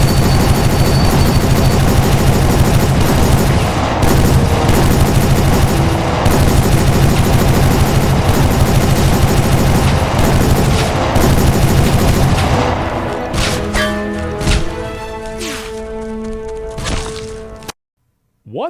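Turret gunfire in the PC game Civil War Secret Missions, a dense loud stream of rapid shots and cracks that thins to scattered bursts and ringing tones before a sudden cutoff.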